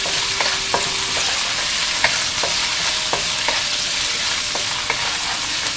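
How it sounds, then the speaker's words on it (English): Prawns frying in hot oil in a wok for a Malaysian cos lettuce dish, a steady loud sizzle with occasional scrapes and clinks of stirring cutting through. "the prawn is already cooking very well"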